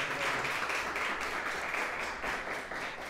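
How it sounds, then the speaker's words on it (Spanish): Audience applause after an academic talk on artificial intelligence in science and industry, a steady dense wash of clapping throughout the short moment with no speech. "Agradezcamos de nuevo entonces a John con un aplauso"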